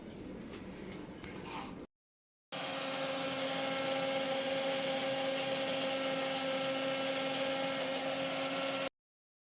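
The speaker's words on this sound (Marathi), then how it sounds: "आलं, लसूण, हिरवी मिरची, गूळ, चिंच, जिरी, ओवा हे सगळं मिक्सरमध्ये वाटायचं" A kitchen mixer grinder runs steadily, grinding ginger, garlic, green chili, jaggery, tamarind, cumin and ajwain into a paste for alu vadi, a loud continuous whine with a brief pause before it starts up again.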